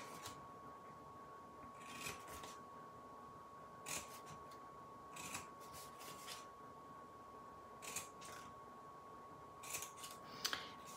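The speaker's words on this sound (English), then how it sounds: "I'm gonna cut on every single one of these little score lines" Scissors snip along the score lines of a small paper book box, quiet short cuts repeated every second or two over a faint steady hum.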